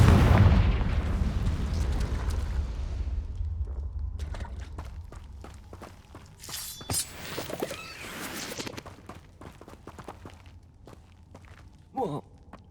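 A Confringo blasting spell in Hogwarts Legacy bursts into one loud, deep explosion at the start, then rumbles and fades over several seconds, followed by scattered lighter impacts and footsteps.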